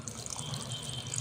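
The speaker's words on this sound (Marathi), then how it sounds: "आणखी थोडं पाणी टाकायचं." Water pours steadily into a pot of veg pulao being cooked, a continuous faint running trickle with no voices.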